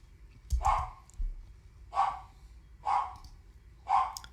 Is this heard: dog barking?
yes